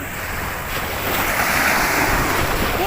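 Sea waves washing ashore at Pattaya beach, a loud continuous roar of surf building and breaking close by, with heavy wind buffeting the microphone.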